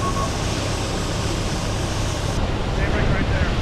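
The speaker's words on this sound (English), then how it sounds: "we decided to make it more of a lighter rain and wind gust situation" Wind buffets the microphone outdoors in light rain during a vehicle test, a loud steady rushing roar with gusty swells and no talk.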